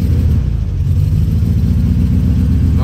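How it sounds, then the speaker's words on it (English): A VW Beetle engine with a shaky misfire runs close by, a loud low rumbling idle with a steady pulsing throb and slight rises in revs. "Engine's running great."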